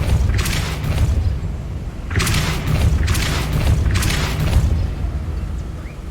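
Three heavy, booming blasts of the Depulso spell in Hogwarts Legacy, each a sudden burst that rolls into a sustained rumble, loud and close over a constant low background drone.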